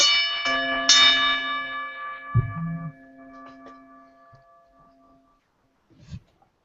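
A bell is struck twice in quick succession, its bright metallic tones ringing out and slowly fading. A dull thump follows, then a faint knock near the end as the room falls quiet.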